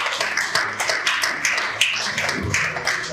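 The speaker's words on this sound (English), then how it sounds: "A round of applause for her one more time." Applause for a speaker at a Nigerian business event on sustainable practices for SMEs: a crowd claps in a busy, continuous patter of sharp strikes, fairly loud and close, with no talking.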